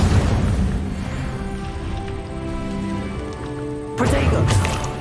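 A fire spell is cast in the video game Hogwarts Legacy, a loud roaring, crackling blast with a low rumble that sustains and then swells again near the end, with tonal game music or effects beneath.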